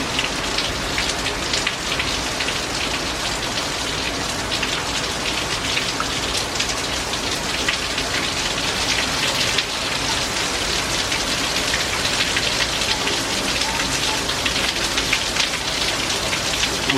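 Heavy squall-line rain from Hurricane Francine pours steadily in Algiers, Louisiana, a dense, loud, unbroken hiss of drops drumming on surfaces for the whole stretch, with no voices.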